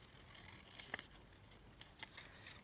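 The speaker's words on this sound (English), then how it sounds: "So we'll just cut that frame down" Scissors snipping a paper frame cut from a book page, a few quiet, sharp crisp snips and light rustles, close and alone.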